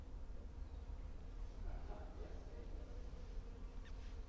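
Bees buzz at Fengdu Ghost City in Chongqing, China, a faint continuous hum hovering close by for several seconds with no speech over it.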